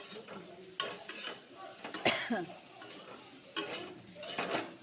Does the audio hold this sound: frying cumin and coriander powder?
yes